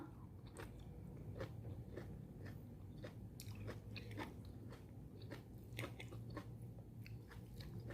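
Crunchy food is bitten and chewed close up late at night, a steady run of crisp crackling crunches at a quiet level with no talking.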